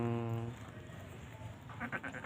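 Sheep and goats, Texel and Sopas sheep with Jawa Randu and Etawa goats, bleat in a farm pen of around fifty animals, a few calls heard under someone talking nearby.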